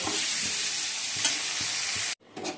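Cumin, dried red chillies, bay leaves and cabbage fry in a pan for a Bengali cabbage dish, giving a steady close sizzle with faint stirring scrapes. The sizzle cuts off briefly near the end, then returns more quietly.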